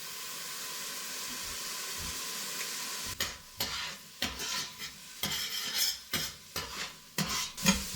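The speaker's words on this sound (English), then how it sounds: "just letting this fry here for a while" Meat for chili con carne fries in a pan with a quiet, steady sizzle, then a spatula begins scraping and stirring in rhythmic strokes; close and fairly soft, no talking.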